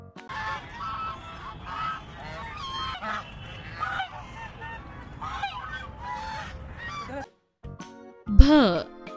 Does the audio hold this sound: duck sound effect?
yes